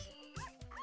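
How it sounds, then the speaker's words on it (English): A dog in a video game gives a short whimper followed by a couple of high yips, soft and close, over steady game background sound with no one talking over it. "Sad just a puppy. Normal dog."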